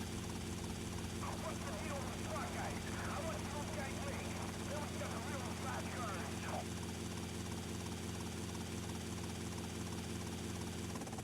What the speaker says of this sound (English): And yeah, his helicopter is still here.